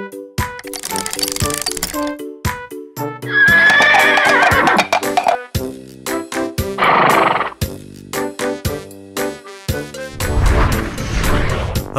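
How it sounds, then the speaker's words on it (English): A horse whinnies loudly several times between sharp, evenly spaced hoof clip-clops, set among bright musical tones and effects in a children's alphabet song. "Horse!"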